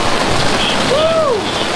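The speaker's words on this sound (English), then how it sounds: "we've got hail, we've got rain." Hail and rain falling near an awning at Summer Lake Hot Springs, a steady dense wash of hissing patter throughout, with a brief faint gliding tone in the middle.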